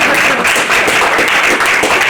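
Audience applause at a public safety symposium, a dense, steady wash of clapping from a room full of people lasting a couple of seconds.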